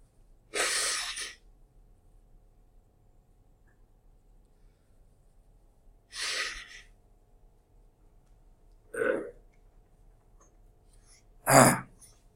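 Four separate sneezes and throat-clearing bursts, spaced a few seconds apart in a quiet room, the last one the loudest and sharpest.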